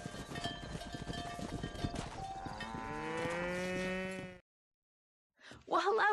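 Cattle in a herd on a ranch in Red Dead Redemption, with repeated lowing moos rising over the ambient game soundscape, alone without talk, then a brief gap before a short final call.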